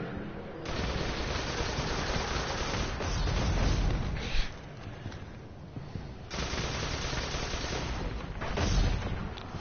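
Dense, continuous gunfire in the video game Destiny, rapid bursts and blasts overlapping into a loud sustained barrage with brief dips between volleys.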